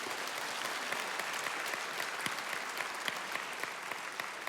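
A church congregation at a senior missions conference claps in dense, steady applause to welcome a pastor to the stage. It sounds full and sustained with no break, and a few faint voices come through beneath it.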